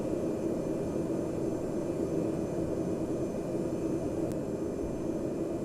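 A propeller airplane on landing approach with the prop set full forward, heard as a steady broad engine drone from inside the cabin, constant and fairly loud throughout.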